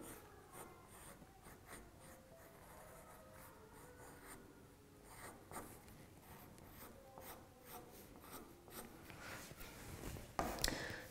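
A pencil drawing hair on paper, making soft scratchy strokes in quick irregular bursts and short rubbing passes, close and quiet, with a slightly louder scratch near the end.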